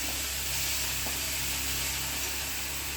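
Split moong dal frying in hot oil for a Bidar-style banana kadli pallya, a steady close sizzle and hiss that runs unbroken with no talking.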